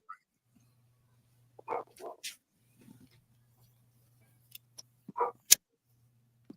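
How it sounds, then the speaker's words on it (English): Dogs bark in a few short, separate bursts at moderate distance, with a sharp louder yelp near the end, over a low steady hum and mostly quiet gaps. "I heard your dogs"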